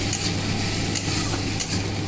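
Scrambled egg bhujia sizzles in a pan while being stirred, a close steady frying hiss with soft scraping strokes over about two seconds.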